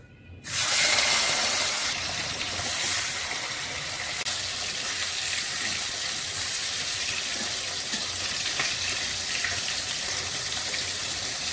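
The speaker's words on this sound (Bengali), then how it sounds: "তার জন্য আমি প্রথমেই মাছগুলোকে ভেজে নিচ্ছি।" Pieces of rohu fish fry in oil in a pan, giving a steady, loud, hissing sizzle that starts abruptly and continues without a break for the rest of the clip.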